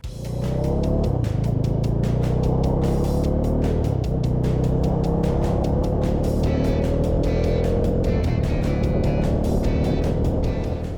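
A 2019 Bajaj Dominar 400 motorcycle rides at speed, its engine droning loud and constant with rising pitch sweeps through the gears, smothered under heavy rushing wind buffeting.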